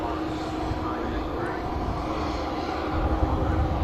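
A TUI Boeing Dreamliner departs Manchester Airport, its jet engines producing a broad, steady roar that swells slightly toward the end, heard from a distance.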